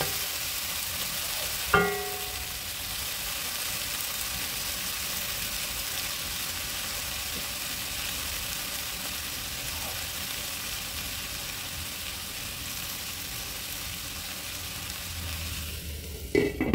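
Vegetables and scallops stir-fry in a pan with a constant, fairly soft sizzle throughout. A single clack of a utensil comes near the start, and a few knocks come at the end, with no talking.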